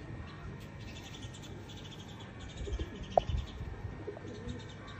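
Pigeons coo softly in the background, low murmuring calls mixed with faint chirps, quiet and somewhat distant in an otherwise calm setting.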